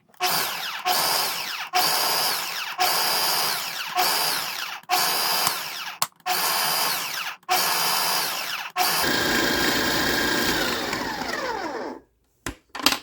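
A kitchen blender whirs loud and close while blending homemade garden pesto, running in repeated short pulses with brief pauses, then one longer continuous run before cutting off.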